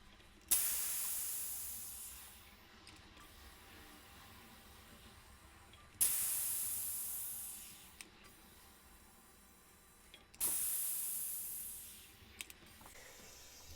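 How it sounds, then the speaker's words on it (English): CO2 gas hisses into a homebrew vessel during refilling. Three sharp bursts each start loud and then taper off, separated by quiet gaps with faint clicks. "I'm gonna turn my CO2 back on with the valve closed."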